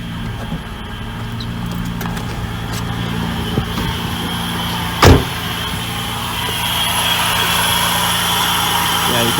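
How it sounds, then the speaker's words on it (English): A J-series V6 swapped into a Miata idles steadily, its idle air control valve making a soft sucking hiss over the engine drone, with one brief thump midway. Nobody talks. "you can probably hear that sort of that like sucking noise, and that's just from the idle air control valve"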